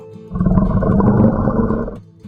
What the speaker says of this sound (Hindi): शेर की दहाड़ सुनकर हाथी ने उसकी बात मान ली।